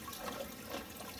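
Water drains softly from raised aquarium filter drawers, a faint, even wash and trickle that lasts about a second with no voices.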